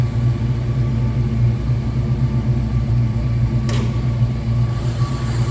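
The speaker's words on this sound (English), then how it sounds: "Little rumble coming out of that V8." A 1965 Ford Mustang coupe's 289 V8 idles nearby with a steady low, throbbing rumble, broken by one brief sharp click partway through, no speech.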